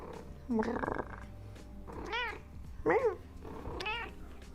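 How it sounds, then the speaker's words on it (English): A pet cat meows several times, drawn-out rising and falling cries close to the microphone over a quiet room background. "Please excuse my cat."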